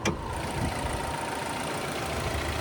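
The 2.0-liter turbocharged four-cylinder engine of a 2024 Cadillac CT4 idles with the hood open, a steady, smooth, even hum after a brief click at the start.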